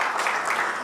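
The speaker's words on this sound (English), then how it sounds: "I would request the audience to welcome them with a huge round of applause." A conference audience gives a round of applause to welcome panelists at an energy-sector session, a brief, even burst of clapping.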